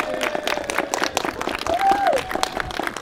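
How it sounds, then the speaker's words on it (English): Wedding guests at a Disney fairytale castle ceremony clap together after the couple is pronounced husband and wife, a steady burst of applause with some voices and a faint melodic tone partway through. "You may applaud."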